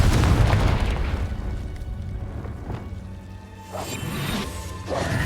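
A Confringo blasting spell in Hogwarts Legacy sets off a loud, booming explosion up close, with a rumbling crash that decays slowly before smaller bursts follow.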